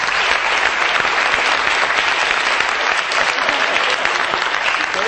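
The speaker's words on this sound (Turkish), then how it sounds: "Alkışlıyorum" Steady applause from a studio audience on a Turkish TV show, dense clapping sustained without a break, with no talk over it.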